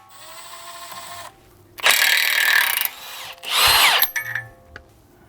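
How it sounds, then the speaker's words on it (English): A power driver with a T30 bit spins a brake rotor screw out of a 2022-or-later VW Mk8 Golf R during front control arm work, in two loud whirring bursts separated by short pauses and a softer motor hum. "With the T30, we'll get the rotor screw out of our way."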